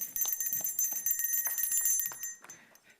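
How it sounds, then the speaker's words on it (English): Salvation Army handbell rung for Christmas donations, a rapid run of bright metallic clangs with ringing overtones that thins out and fades near the end. "I kind of like this bell."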